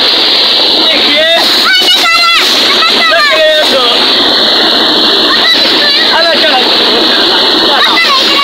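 People bathing in open water in summer heat splash constantly, a loud, close wash of churning water mixed with excited shouting and chattering voices.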